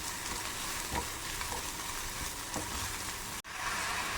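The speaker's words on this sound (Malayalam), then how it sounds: "നെയ്ക്കകത്ത് കിടന്ന ഏത്തക്ക ഒന്ന് നല്ലോണം ഒന്ന് വഴന്ന് വരണം." Plantain pieces sizzle steadily in hot ghee for a semiya fruit payasam, a constant frying hiss with a few soft stirring scrapes and no talk.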